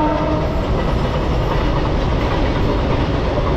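The Saraighat Express rumbles along the rails in a steady, loud, continuous roar heard from inside the moving train, with no pauses.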